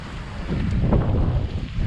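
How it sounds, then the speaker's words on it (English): Gusty, unsteady wind buffets a sailboat at sea amid passing squalls, a low rushing roar that swells and eases over a short stretch, with no voices. "But whenever there's squalls around, the wind is just not steady."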